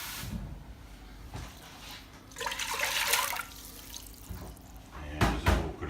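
Water poured from a cup into a soup pot on the stove for homemade pumpkin soup, alongside chicken stock, producing a brief splashing gush mid-clip followed by a couple of short clatters near the end.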